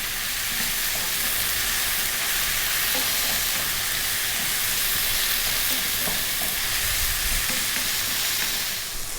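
Chickpeas seasoned with salt, pepper, cumin and paprika sizzle and crackle steadily in a hot pan, a close, continuous frying hiss with occasional stirring scrapes.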